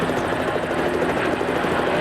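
A helicopter hovers over the Atlanta Motor Speedway during a 1997 NASCAR Winston Cup race, its loud, steady rotor chop and engine whine filling the air without pause.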